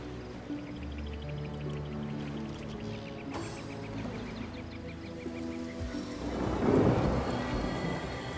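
A low rumble of thunder rolls beneath steady rain in the video game Divinity, swelling louder near the end, with a faint tonal hum running underneath.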